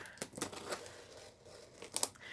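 Scissors snip through packing tape on a cardboard box holding unfinished wooden furniture, giving a few short crisp cuts and crinkles close by, with quiet pauses between them.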